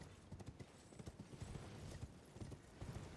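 Summoned horse hooves in the video game Elden Ring clip-clop in a quick, steady gallop rhythm over a busy game soundscape, fairly close and continuous for a few seconds.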